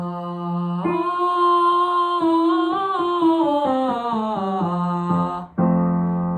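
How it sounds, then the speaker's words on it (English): A single voice sings a sustained note, leaps up an octave, then ornaments with a turn and steps down a major scale, ending with a new note. "we're going to sing a turn and down the major scale"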